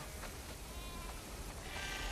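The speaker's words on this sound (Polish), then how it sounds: "Mamy zdecydowanie za dużo owiec." Sheep bleating in The Last of Us Part II, a flock's cries rising briefly over a steady wash of wind and ambient game noise, with no talking.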